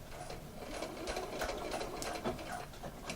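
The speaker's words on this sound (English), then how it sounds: "There we have the stitch line with me sewing into the ditch" A sewing machine stitches an elastic waistband into a seam, sewing in the ditch, with a steady close whirring hum and rapid needle tapping running throughout.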